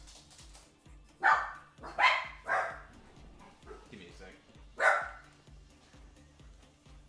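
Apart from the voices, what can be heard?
dogs barking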